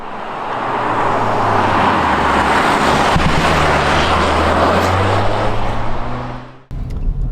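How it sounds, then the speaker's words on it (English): A 2022 Porsche Macan T with its 265-horsepower engine accelerating hard through the gears, a loud steady drone with rising engine tones under heavy wind noise, cutting off abruptly near the end. "it is quite a punchy little engine, and it does have a nice degree of urgency to it. It gets up through the gears nice and quickly"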